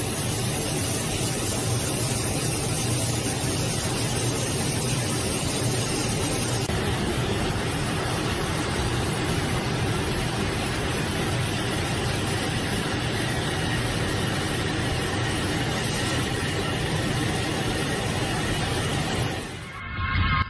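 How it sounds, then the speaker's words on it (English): A jet aircraft's engine roars steadily as the plane flies with flames bursting from one engine before a crash, a dense continuous wash of loud noise that cuts off abruptly at the end. "Aircraft flies with flames bursting from one engine before crashing moments later"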